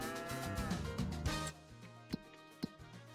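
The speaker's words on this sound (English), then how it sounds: "Actually, how's cows doing?" Cattle on a farm moo in deep, drawn-out calls, several overlapping close by, with a few sharp knocks in the background.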